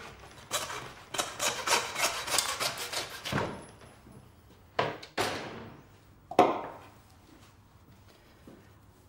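A butcher cuts the knuckle off a whole lamb shoulder, with a quick run of rasping, sawing strokes followed by a few separate scraping cuts and a sharp knock close by.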